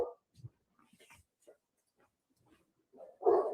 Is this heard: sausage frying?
no